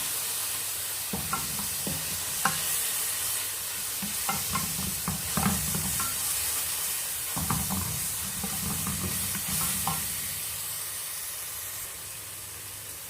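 Minced garlic with spiced ground meat sizzles in a hot pan for a lasagna, with a steady frying hiss and scattered scraping and stirring knocks throughout.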